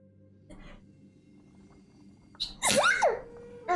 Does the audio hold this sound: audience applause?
no